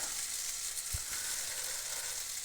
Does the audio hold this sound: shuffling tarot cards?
no